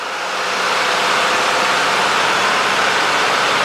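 Constant droning of a small plane's engine heard from inside the cabin during a low approach down a long runway, a loud, steady broadband roar that swells slightly at the start, with no talk.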